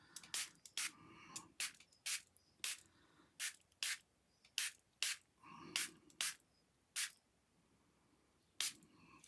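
A water spray bottle mists a mixed-media butterfly craft piece close by, firing about a dozen short, sharp hissing bursts in an uneven rhythm with brief quiet gaps between them.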